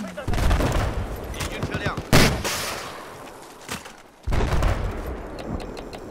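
Bursts of gunfire crackle over a dense battle din in Battlefield 4, with a sharp loud shot midway, a brief lull, then heavy firing resumes.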